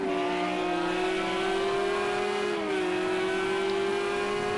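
Race cars battling on track in Project Cars 2 during a four-hour endurance race at Spa, with a loud sustained engine whine heard on board and a brief dip in pitch at a gear change.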